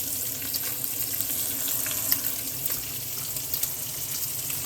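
Garlic hits browned meat in a frying pan, giving a continuous soft sizzle and crackle with scattered small pops, fairly quiet and steady with no voices.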